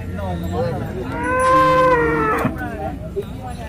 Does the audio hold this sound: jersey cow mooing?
yes